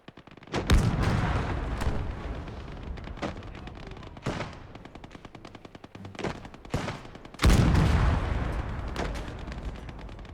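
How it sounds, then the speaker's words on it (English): Battlefield combat in the WWII strategy game Gates of Hell: loud heavy blasts and a steady rattle of rapid machine-gun fire running throughout, with booming artillery-like impacts and no voices. "he's just shooting this until it blows up"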